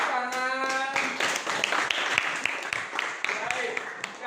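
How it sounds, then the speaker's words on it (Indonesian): A classroom of students clapping hands, with a brief voice at the start giving way to a busy, scattered patter of claps that continues steadily to the end. "mari kita tepuk tangan"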